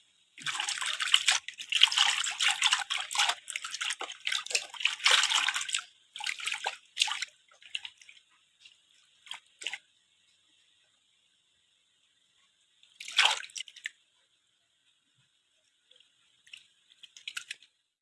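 Feet soak in a basin of water, sloshing and splashing busily up close at first. The sound then thins to sparse drips and small splashes with quiet gaps.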